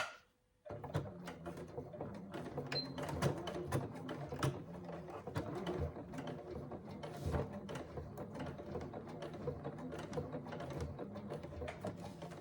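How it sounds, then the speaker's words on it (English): A sewing machine with a Microtex needle top stitching through a seam in faux leather on a handbag, a steady close mechanical whirring and ticking that starts abruptly and runs continuously. "And then we're top stitching again through that seam to hold it down."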